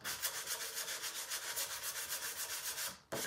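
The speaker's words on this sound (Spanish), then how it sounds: "como lo voy a lijar mucho" A wooden letter holder is being sanded by hand, a steady rhythmic rasping of back-and-forth strokes, close and continuous, ending in a brief pause and a louder scrape.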